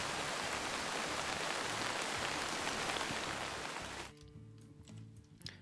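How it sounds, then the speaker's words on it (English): Heavy rain in a video game hisses loudly and steadily for about four seconds, then cuts off abruptly and leaves quieter tonal game sounds. "Getting a little above the rain there because it's quite loud."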